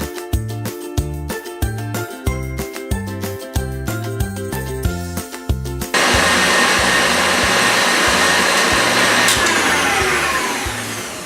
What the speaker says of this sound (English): in a stand mixer or with a hand mixer, we're going to mix it up just to add some air into it